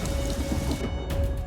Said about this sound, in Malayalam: ഇത് മഴ കടുക്കുവാ.